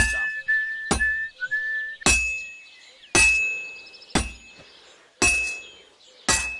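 Hot metal struck on an anvil in Kingdom Come: Deliverance II, six or seven bright ringing hammer blows at roughly one-second intervals, each clang sharp and metallic with a lingering tonal ring, close and loud, no talk.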